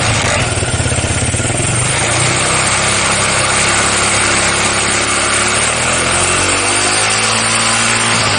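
A Honda Tiger motorcycle engine idles steadily up close, then is revved up from idle, with a continuous, even engine drone throughout and no talking.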